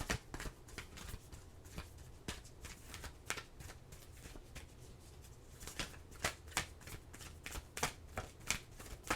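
Tarot cards being shuffled up close, a steady run of crisp flicking and riffling bursts with sharp snaps, no voices over the handling.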